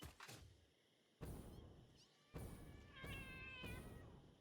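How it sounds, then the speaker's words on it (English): Cats meow in a video game, several drawn-out, quiet mews spaced apart, with soft thumps between them. "I hear cats."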